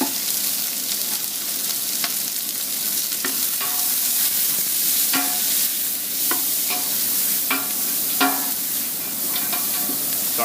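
Sliced onion, skin-on sliced ginger and black pepper sizzle loudly in a pan over medium heat, with a spoon scraping and tapping in a steady rhythm as they are stirred.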